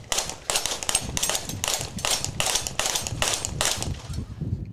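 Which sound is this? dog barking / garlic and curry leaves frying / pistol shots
pistol shots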